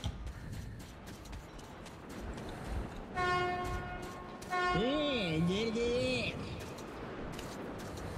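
An armored ram vehicle rolls along in the post-apocalyptic game Metro 2033 with a steady mechanical rumble, a sustained horn-like tone, then a rising and falling siren-like whine before it fades back to the rumble, with muffled voices underneath.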